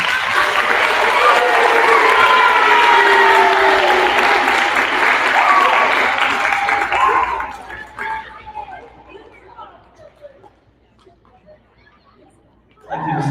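Loud, close applause from students and teachers at a 5th grade school awards assembly, a dense burst that tapers off, leaving faint murmurs before noise picks up again at the end.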